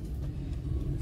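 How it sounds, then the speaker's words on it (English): A car drives off from a London market, its engine giving a steady low rumble that stays close and even throughout, with no voices over it. "In my car, driving off right now."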